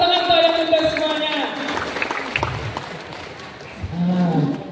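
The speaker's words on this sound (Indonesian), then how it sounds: "Masya Allah, tepuk tangan untuk yang Bunda semuanya." An audience at a school parenting seminar applauds the mothers, a dense wash of clapping that rises after a voice speaks and then fades as speech returns near the end.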